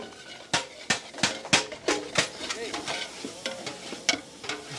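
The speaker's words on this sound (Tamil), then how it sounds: "கிண்டுப்பா." Spoon scraping and clacking against a pan while potatoes fry for a Nellai wedding-style potato curry, a run of sharp irregular knocks over a soft sizzle, with a person talking quietly underneath.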